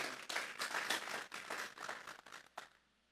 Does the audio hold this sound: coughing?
no